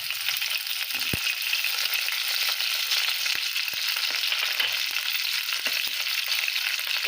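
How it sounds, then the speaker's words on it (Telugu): Onions, green chillies and curry leaves frying in about five tablespoons of oil for a tamarind fish curry, a loud, dense, continuous sizzle with a few faint clicks of a spoon, no talking. "ఇందాక కట్ చేసి పెట్టుకున్నాం కదా ఆనియన్స్ వేసేద్దాం"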